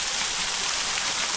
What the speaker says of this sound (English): you may see the waterfall